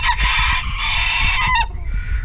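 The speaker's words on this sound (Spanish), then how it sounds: "Pero bueno, ya se echó la gallina negra." A rooster and a black hen sound off close by, loud clucking and a crowing call lasting over a second before breaking off, with a few short clucks after.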